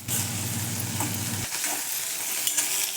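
Green chillies roasting in a hot pan for thecha, with a steady close sizzle and the scrape of stirring, the frying hiss easing partway through; no voices.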